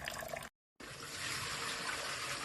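Water rushing out of an Osmio Zero 3.0 water filter system as it drains, a steady, close hiss-like flow that cuts out briefly and then resumes at a constant level.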